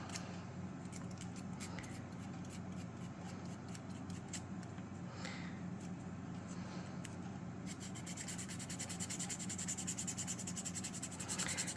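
Sandpaper rubs char from the inside of a wooden model dory, a soft, steady scratchy scrubbing that continues nonstop, quiet and close, with a slightly faster stroke rhythm near the end.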